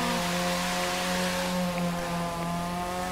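A motorboat engine in a boat race in The Crew 2 drones with a steady, even tone over a broad hiss of water spray, heard at moderate level with no talking.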